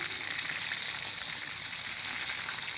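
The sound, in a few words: chicken frying in oil on medium flame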